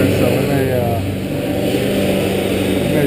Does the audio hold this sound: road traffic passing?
yes